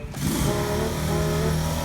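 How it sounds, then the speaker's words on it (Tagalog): A motorcycle engine runs steadily in the background outdoors by a small eatery, a continuous loud droning hum that holds level through the moment with no speech over it. "Tunog ng motor."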